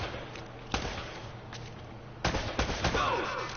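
Gunfire from the video game Uncharted, with a few sharp shots scattered over a steady game background hum, followed by a cluster of quicker impacts near the end.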